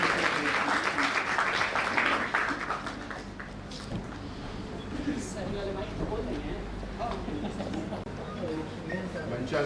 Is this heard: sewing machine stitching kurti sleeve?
no